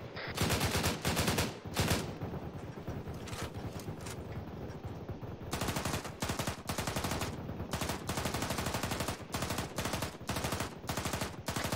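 A vehicle-mounted or heavy weapon in the military game Arma 3 fires in sustained automatic bursts, with loud, rhythmic shots repeating rapidly and a short pause midway before the firing picks up again.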